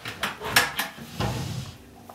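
Two large wooden dresser drawers built into a renovated Class C motorhome being slid open and shut, with several short knocks and scrapes in quick succession, close by and moderately loud, no voices.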